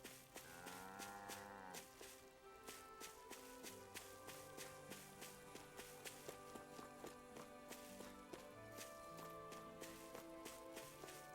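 Cow mooing on a ranch in a Tales of video game, a drawn-out low call near the start over steady game music with light percussive ticks throughout.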